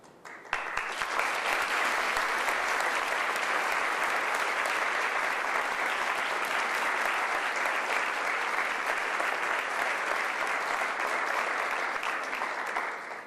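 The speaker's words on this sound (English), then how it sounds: "Please, another round of applause" An audience at a speech in a room gives a loud, sustained round of applause, dense clapping that holds steady for the whole stretch with no talk over it.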